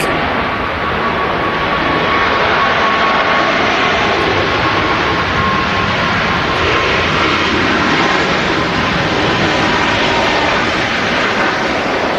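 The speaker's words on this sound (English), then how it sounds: "A Ryanair Max in this beautiful evening lighting." Ryanair Boeing 737 MAX jet airliner at Manchester Airport in the evening, its engines producing a steady, loud, broadband roar that holds evenly for the whole stretch.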